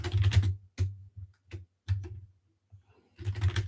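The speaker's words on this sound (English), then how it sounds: "This is a mechanical keyboard, and it's amazing. It's just super loud, and it's right by the mic." Close, loud clatter of a mechanical keyboard right beside the microphone, typed in quick bursts with short pauses between them and no talking.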